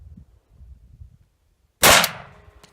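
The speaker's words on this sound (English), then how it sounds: "we'll go ahead and empty the magazine and see what happens here" A single sharp, loud rifle shot from an M1941 Johnson rifle cracks out after a stretch of quiet low rumble, followed by a short decaying echo.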